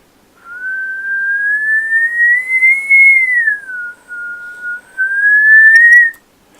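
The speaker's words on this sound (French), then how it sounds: "Si par exemple j'émets un sifflement." A single person whistles one long sustained tone, rising slowly, dipping, then rising again, clear and close in a quiet room.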